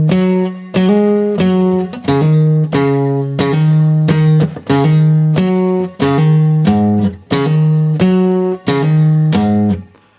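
Guitar picks out the melody of a piece from Red Dead Redemption, a steady run of clear, ringing plucked notes with regular attacks, played alone and close up for about ten seconds.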